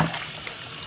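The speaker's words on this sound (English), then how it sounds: "I'm gonna rinse it one more time." Tap water runs steadily over raw chicken being rinsed in a sink for a souse recipe, a close, continuous splashing hiss with no voices.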